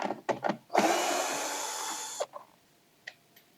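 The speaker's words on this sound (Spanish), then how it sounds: "se coge el trompo, se pone en aflojar. Y cogemos y quitamos" An impact wrench loosens screws on a Sea-Doo Spark TRIXX, giving one loud, steady whirring burst of about a second and a half. Light knocks and handling taps sound before and after it.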